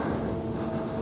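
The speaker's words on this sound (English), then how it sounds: "That train goes under the sea to the UK" A train rumbles past nearby, a loud, steady low roar with a dense rolling texture and no pause over one second.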